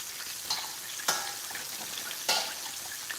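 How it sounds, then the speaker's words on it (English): Steady sizzling of gluten-free chicken frying in hot oil, with a few sharp bursts of crackle and spatter from stirring, close up and without talk. "We're frying chicken and making a little salad."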